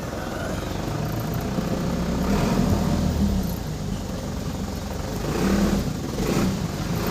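A repaired Mitsubishi Canter truck engine runs during a road test after axle oil seal and brake cylinder replacement, a steady low rumble that swells twice as it revs, heard close with no talk.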